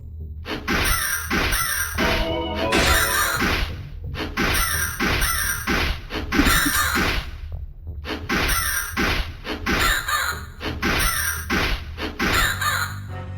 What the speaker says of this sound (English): Spells, Murder of Crows.